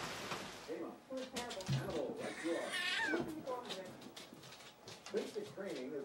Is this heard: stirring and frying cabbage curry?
no